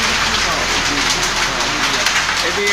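Heavy rain pouring down close by, a loud unbroken hiss, with faint voices underneath.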